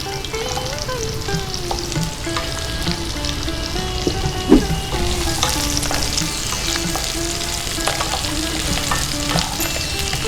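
Potato pieces sizzle and fry in a pan for a Bengali mixed vegetable dish as they are stirred, giving a continuous crackling hiss with occasional scraping and knocks.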